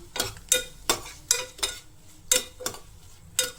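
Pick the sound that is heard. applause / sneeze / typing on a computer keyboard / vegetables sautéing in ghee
vegetables sautéing in ghee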